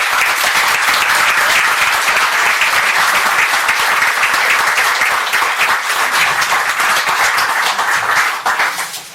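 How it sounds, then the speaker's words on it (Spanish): An audience breaks into sustained, dense applause for a speaker, loud and continuous before thinning slightly at the end. "Un fuerte aplauso para ella."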